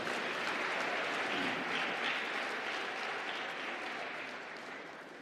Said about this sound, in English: deserving round of applause?